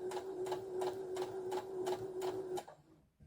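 Sewing machine stitching jumpsuit fabric, a steady mechanical whir with a rhythmic clack of about seven evenly spaced stitch beats, fairly quiet and close, stopping near the end with no speech.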